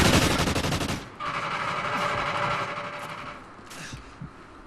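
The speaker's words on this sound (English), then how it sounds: "Someone shot me from the back." Rapid automatic gunfire in an online multiplayer shooter game, a loud dense burst of shots for about a second followed by scattered distant shots and fainter mechanical clatter over steady game ambience.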